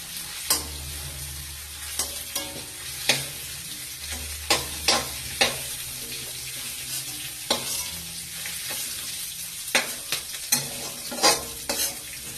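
Broccoli frying in a pan, with a constant close sizzle under a series of sharp spatula scrapes and clanks spaced a second or two apart.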